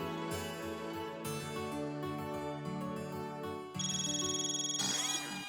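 A mobile phone ringtone plays a bright, melodic electronic tune that repeats in phrases, growing louder and more insistent near the end, with no talking over it.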